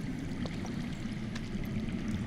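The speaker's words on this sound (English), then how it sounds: "I hear water. From underground." Water flowing underground makes a steady low rushing gurgle, muffled and continuous over a short stretch, with no voices.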